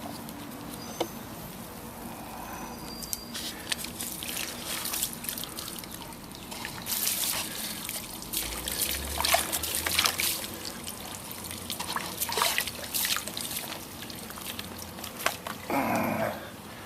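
A rusty part cleaned in apple cider vinegar is swished through a rinse bucket, and water trickles and drips steadily for a long stretch, close and moderately quiet, with occasional small splashes and clinks.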